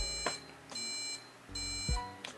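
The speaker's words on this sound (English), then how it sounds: "Now it's making one long beep, then 3 other beeps." A desktop computer motherboard in an i5-2500K build sounds POST beep codes, a single long beep followed by short beeps, clear and close in an otherwise quiet room.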